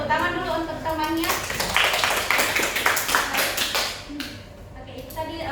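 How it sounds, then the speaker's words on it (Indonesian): A classroom group claps for presenters, a short burst of brisk, scattered applause with children's voices mixed in, fading after a few seconds. "tepuk tangan dulu untuk temannya"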